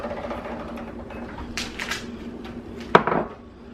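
Chopped broccoli tossed into a casserole dish for a cheesy broccoli and rice casserole: a soft rustle, then a sharp clatter against the dish and a short scrape near the end, fairly close, with no voices.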